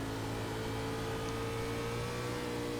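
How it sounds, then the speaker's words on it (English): A NASCAR stock car in the iRacing video game holds a steady, droning engine note at a constant pitch, with no voices over it. "stepped on the throttle too hard there out of 4"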